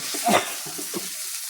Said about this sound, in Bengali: হলদি দিয়ে এগুলা নেড়ে চেড়ে